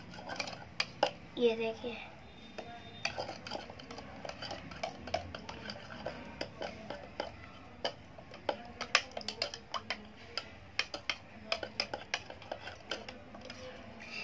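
A spoon stirs and mixes mint lemon juice in a glass, giving repeated light clinks and taps in an irregular rhythm throughout, with children's voices talking over it now and then.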